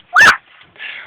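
A voice imitates a dog barking with one short, sharp, loud bark, followed by a soft breathy noise.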